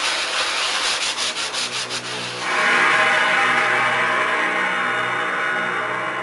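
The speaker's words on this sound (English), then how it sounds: "scuff sanding." Steady scuff sanding on a light aircraft's instrument panel, a dry abrasive rubbing that shifts from choppy strokes to a continuous hiss, close and loud, no voices.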